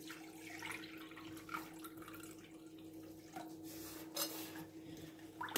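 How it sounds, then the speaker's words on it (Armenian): Water is poured and trickles onto tomato paste in a bowl, a faint, close, continuous dribbling and splashing with soft drips and no talk. "այսպես կբացեմ ջրով տոմատի մածուկը"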